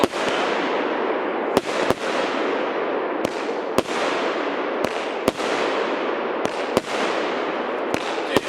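Cheap consumer fireworks from a multi-shot cake explode in a rapid, irregular series of sharp loud bangs over a continuous crackling hiss, close by, with no talking.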